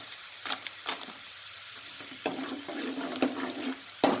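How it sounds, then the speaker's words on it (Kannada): Peanuts and curry leaves frying in a pan on a low flame for oggarane churmuri, a quiet, steady sizzle punctuated by sharper crackling pops and spits, close up with no voices. "ಹಾಗೆ ಶೇಂಗಾ ಹಾಕ್ತಾಯಿದ್ದೀನಿ"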